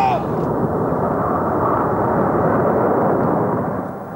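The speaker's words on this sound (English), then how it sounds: "For Dick McCormack, the Diamond 9 flypast is a poignant reminder that his days as a fast jet pilot are all but over" Fast military jets in a Diamond 9 formation fly past at a squadron ceremony, a loud, broad, sustained roar that swells and then begins to fade.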